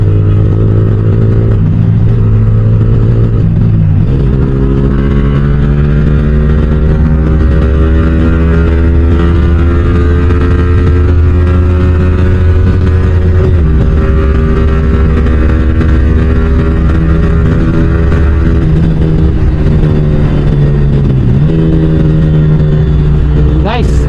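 Yamaha R15 V4 motorcycle with a modified exhaust riding at speed, a loud steady engine drone whose pitch dips briefly at gear changes, heard close and continuous throughout.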